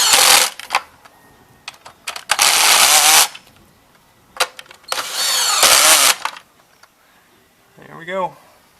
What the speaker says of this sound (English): I'm getting on my drill.